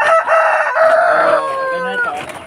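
Native chickens on a countryside farm, with a rooster crowing loudly and close by, its long call repeated against soft background clucking.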